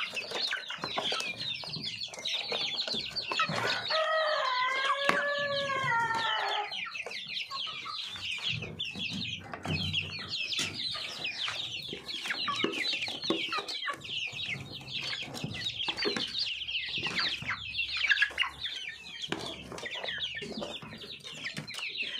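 Chickens cluck steadily and fairly close throughout, pecking at each other near small chicks, with a brief burst of louder, rising fowl calls early on and scattered scratching and flapping noises in the background of a farmyard setting.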